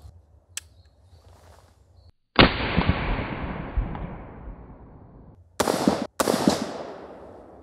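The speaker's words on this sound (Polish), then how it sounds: "Oddamy jeszcze kilka strzałów, zobaczymy jak one się układają." A sawn-off Howdah pistol fires several sharp shots, one loud crack with a long decaying echo followed by two quick close reports, with quiet gaps between them.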